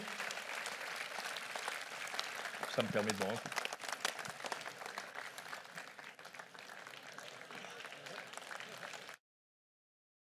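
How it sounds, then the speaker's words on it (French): Audience applause at a New Year's greetings ceremony for Alès Agglomération, sustained clapping from a crowd lasting several seconds with a voice speaking over it. "je vous demande ce soir de bien vouloir les applaudir pour tout ce qu'ils font à notre service"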